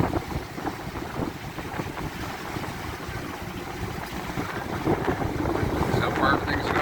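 A sailboat runs downwind under a small jib, with steady wind buffeting and the rush of water along the hull, a continuous close whoosh that builds slightly toward the end.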